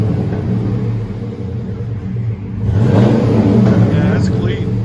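A car exhaust running through a Flowmaster Super 40 muffler idles with a deep rumble, then revs up into a louder throaty roar. People talk over it.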